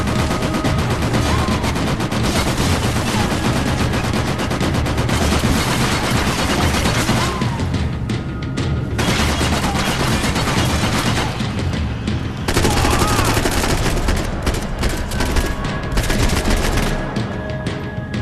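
Rapid, loud gunfire from the video game Max Payne 3 fills the whole stretch, bursts of shots and booming impacts layered over a dense game soundscape with no pauses, and no voices.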